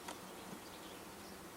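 Honey bees hum in a steady, continuous drone around an open nuc colony made from a Saskatraz parent colony, close and even throughout with no talking.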